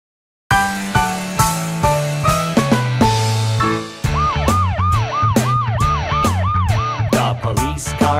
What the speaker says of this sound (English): The police car patrols the town and town.